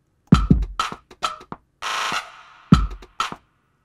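A sharp clap sample hits several times in a pattern, with a longer washed-out burst in the middle where reverb smears the tail.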